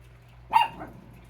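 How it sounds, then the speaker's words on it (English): A single short dog bark rings out near and fairly loud against a quiet room, with a brief tail of echo afterwards. "And Fanny's going to bark for no reason."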